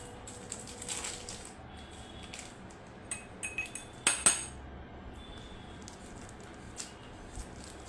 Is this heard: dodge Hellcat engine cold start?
no